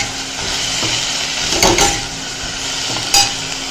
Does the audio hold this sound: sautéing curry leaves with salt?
yes